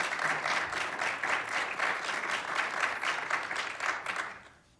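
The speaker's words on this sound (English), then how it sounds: "How about a round of applause for my panelists?" Audience at an activist bootcamp applauding panelists: a full, steady burst of clapping from a crowd that holds for about four seconds, then tapers off quickly.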